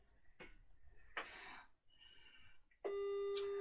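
A telephone call is placed over a line: soft clicks and breathy handling noises give way to a steady electronic line tone that starts late and holds, loud and unbroken, to the end.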